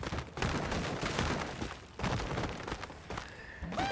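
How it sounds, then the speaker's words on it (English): Explosions and crashing impacts burst out in the Angry Birds game, loud bursts at the start, around two seconds and near the end, each trailing into rumbling debris and clatter. "He goes explosion."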